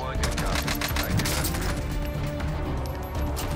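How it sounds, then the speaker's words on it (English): Precision airstrike explosions in the Modern Warfare video game hit in a dense, loud, continuous barrage of rumbling blasts and crackling impacts, with a voice briefly talking over them. "Precision airstrike's going in."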